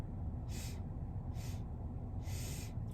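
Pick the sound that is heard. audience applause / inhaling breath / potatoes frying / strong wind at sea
inhaling breath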